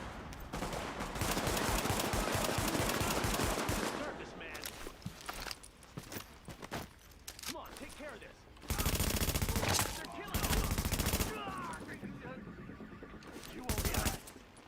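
Heavy automatic gunfire in The Division, a tactical shooter game, with dense sustained bursts and volleys rattling loudly across the clip, broken by brief quieter gaps before more loud salvos.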